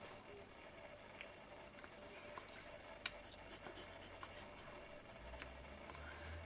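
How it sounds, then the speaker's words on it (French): A pencil draws curves and small points on paper, a faint, soft scratching with light strokes over quiet room noise. "Ici, je dessine une courbe et je dessine une petite pointe."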